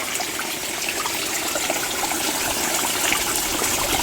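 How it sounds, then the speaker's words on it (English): Water rushes steadily along a small stream fed by a spring, a continuous close gushing flow with no breaks or voices. "But it's so worth it in order to keep the streams clear."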